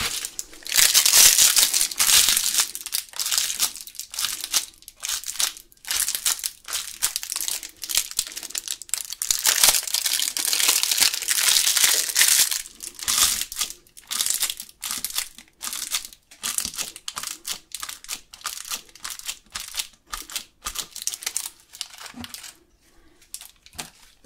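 Paper is crumpled and crinkled close up during a relaxing spray-paint art session, giving a continuous stream of crackling, rustling bursts that rise and fall over about twenty seconds, with no talking.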